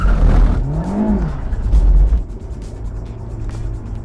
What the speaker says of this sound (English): This is a Honda S2000, and it's got a handed course on it.